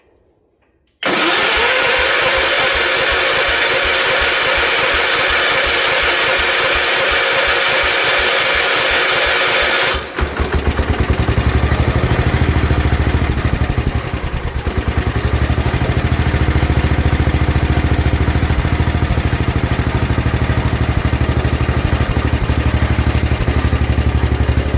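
A Gravely 816 walk-behind tractor engine, just after carburetor work, cranks and catches, then runs loud and steady at a rough idle with a shift in pitch partway through, close by and alone.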